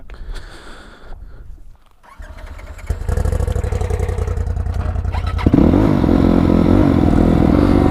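A motorcycle with its clutch pulled all the way in starts up after some quiet shuffling, then idles loudly and close with a steady throbbing chug that grows heavier in the final seconds.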